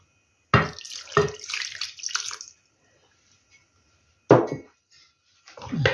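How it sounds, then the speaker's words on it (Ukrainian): Water splashes and pours in several short bursts into a metal pot of pork ribs being braised, with pauses of near silence between pours. "зараз візьму ще води і долю води, щоб вода накривала ребельці"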